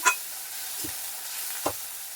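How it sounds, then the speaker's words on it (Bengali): Onion paste and a splash of water hitting a hot pan for a fish curry, giving a soft steady sizzle with a couple of brief stirring scrapes, fairly quiet and with no talking. "পেঁয়াজের পেস্টটা দিয়ে দিলাম বন্ধুরা তারপরে খানিকটা জল দিয়ে দিলাম"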